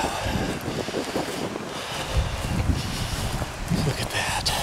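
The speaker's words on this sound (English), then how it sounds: "I don't even know if you can hear me with the stinking wind." Strong outdoor wind buffets the microphone on open Nebraska public land during a deer hunt, a constant roaring rumble with gusting low thumps throughout; someone talks under the noise.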